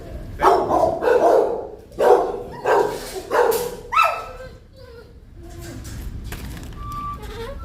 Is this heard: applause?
no